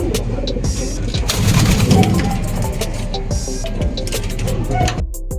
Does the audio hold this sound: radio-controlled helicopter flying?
no